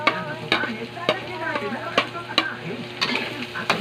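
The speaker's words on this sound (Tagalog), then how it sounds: "Isusunod na natin ang siling pampaangpang." Chili peppers sizzle in a pan for banana heart paksiw, a close, busy frying hiss with rhythmic scraping and stirring strokes about every half second.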